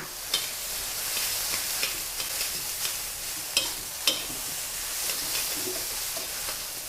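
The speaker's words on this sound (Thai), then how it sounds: "ทีนี้ก็ ใช้ไฟแรงเลยค่ะการจะใช้ไฟแรงสุดนะคะ ผัดค่ะ" Rice is stir-fried with dark soy sauce in a pan over the highest heat, giving a steady close sizzle with scraping stirs and occasional sharper clacks of the utensil against the pan, with no talking.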